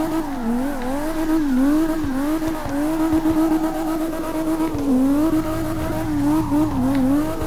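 A 900 HP BMW E34 M5 in CarX Drift Racing Online roars steadily while drifting, its loud engine and exhaust tone wavering up and down with throttle changes and an underlying tire scrub.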